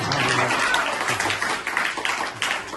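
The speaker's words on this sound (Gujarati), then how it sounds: "જોરદાર તાળીઓ પાડો." An audience at a primary school quiz event in Mundra applauds a student. Sustained crowd clapping comes close and loud, then thins out, with voices mixed in.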